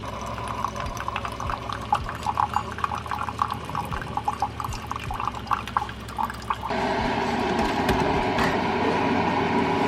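A Keurig coffee maker brews a strong K-cup, first with a rhythmic pumping and dripping, then a steady louder hiss and gurgle of coffee pouring, close by with no talking.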